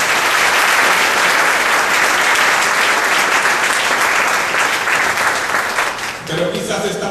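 Loud applause from a church congregation, a dense wash of clapping that carries on steadily and thins slightly near the end, with some voices mixed in.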